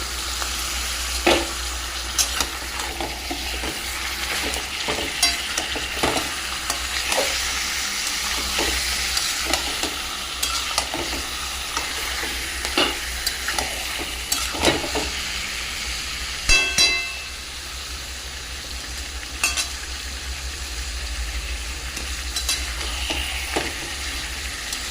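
Chicken pieces frying with onions in a green paste of garlic, green chilli, coriander and yogurt, a continuous sizzle broken by repeated sharp scraping stirs of a spoon against the pan, close and fairly loud, with no talking.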